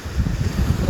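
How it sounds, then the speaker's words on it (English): Choppy sea and gusting wind roar as a steady, loud low rumble with wind buffeting the microphone, heard alone. "It's a bit of a choppy day here today, so the sea's a little bit noisy"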